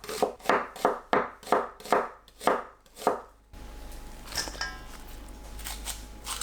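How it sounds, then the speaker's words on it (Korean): A knife thinly slices onion on a cutting board: about eight crisp, evenly spaced chops close by, then a steady low background hiss takes over with faint clinks. "양파를 얇게 채 썰어주세요"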